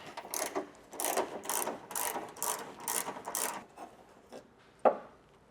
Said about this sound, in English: we have our ratchet, we have our T40 Torx socket, and we're gonna get these factory bolts removed